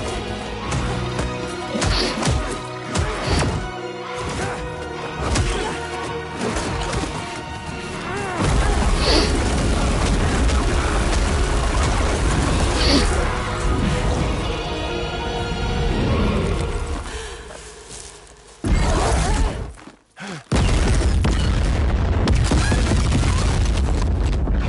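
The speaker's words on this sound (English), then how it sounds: "Metal Gear Rex cannon." The Metal Gear Rex cannon firing in Death Stranding 2 on PS5: heavy, loud booms and crashing impacts over a sustained roar of game noise, broken by a brief drop to near silence before the blasts resume.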